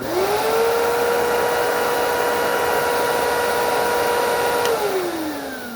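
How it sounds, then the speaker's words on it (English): A Bissell Liftoff vacuum cleaner runs loud and close with a steady high-pitched motor whine and airflow roar, then winds down in pitch at the end. "So here comes the Bissell Liftoff. Just gonna do a quick little fire up of what she sounds like"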